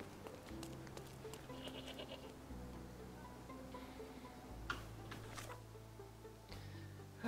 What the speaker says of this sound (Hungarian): Ó, kecske is van.